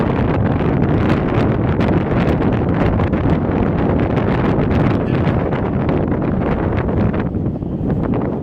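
Strong, steady wind roars and buffets the microphone throughout at the bow of the Queen Mary 2 ocean liner, a loud broadband rush with no talking.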